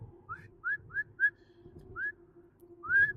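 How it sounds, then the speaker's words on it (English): A person whistling with the lips, a series of short rising whistled notes in an uneven rhythm, close and clear over a faint low hum. "if you're trying to whistle with your lips, do they need to be wet?"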